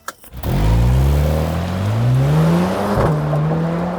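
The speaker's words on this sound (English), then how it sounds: "let's take a look at what the C43 AMG is capable of on the move" Mercedes-AMG C43 accelerating hard while moving, a loud close engine note rising steadily in pitch through the gears, with a brief shift dip before climbing again.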